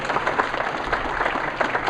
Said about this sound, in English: we still want to hear an applause for Earl